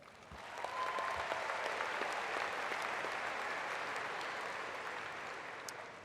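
Steady applause from a large audience at a spring 2016 Colorado State University College of Health and Human Sciences commencement ceremony, swelling quickly and holding as a dense, even clapping for several seconds in a big hall.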